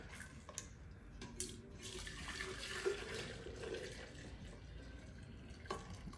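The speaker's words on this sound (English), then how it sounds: "what we need to do there is get our pickling syrup on there" Pickling syrup of vinegar, sugar, salt and water being poured over a container of vegetables, a soft steady liquid pour and splash with a few light knocks nearby.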